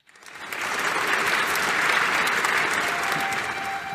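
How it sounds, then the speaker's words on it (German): A dense burst of audience applause at a theater audio-play performance swells quickly and holds steady, loud and close, for a few seconds. "Applaus"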